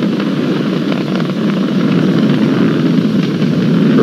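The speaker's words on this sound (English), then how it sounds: "We've exceeded Mach 1 on the Falcon 9." Falcon 9 rocket climbing through supersonic flight during the crewed SpaceX Demo-2 launch, a steady, loud, broadband roar with heavy low rumble that holds constant without pause.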